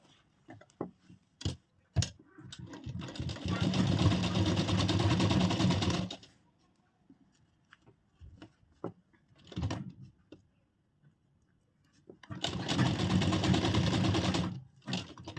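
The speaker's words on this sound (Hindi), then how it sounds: "सीधा करने के लिए यहाँ से हम इस पे सिलाई लगाएंगे" A sewing machine stitches a deep-neck princess-cut blouse in two sustained runs of rapid, steady whirring, each several seconds long and close by, separated by quiet handling noises and a few clicks.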